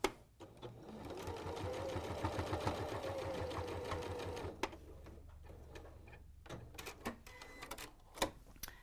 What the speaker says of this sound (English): And then you sew across.